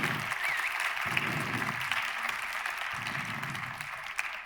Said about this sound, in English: Lisett, round of applause for Lisett.